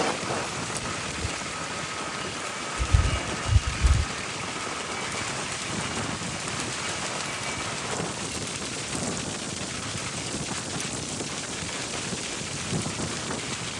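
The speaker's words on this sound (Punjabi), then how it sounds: "ਮੀਂਹ ਆ ਗਿਆ ਤੇਜ਼ ਆ ਗਿਆ" Steady heavy rain hisses continuously, with a few low thumps early on, and no voices.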